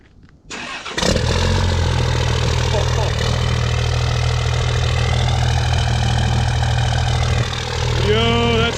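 A 24V Cummins diesel truck engine with a 4-inch straight-pipe exhaust cranks and fires up, then settles into a loud, rumbling idle close by, with a brief squeal near the end.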